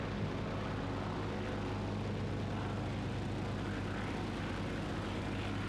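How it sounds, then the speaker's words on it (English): Boeing 247D twin-engine propeller airliner of 1935 in Microsoft Flight Simulator, a steady, loud droning engine hum with a low throbbing tone that holds constant throughout, no voices. "I keep hearing strange murmurations from the aircraft."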